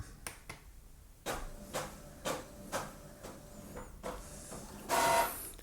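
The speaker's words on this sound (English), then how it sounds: "And here we go, our print results are out." Epson ET-3850 inkjet printer printing a page: a series of sharp mechanical clicks and thumps at regular intervals, a faint motor tone between them, and a louder whirring burst near the end.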